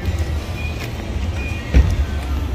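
A car turning around to park in a small lot in Santurce, Puerto Rico, heard from inside as a steady low engine rumble with a brief bump partway through.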